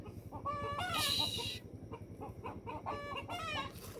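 Hens cluck in repeated short bursts nearby as they come for scattered wheat, with a steady low hum running underneath.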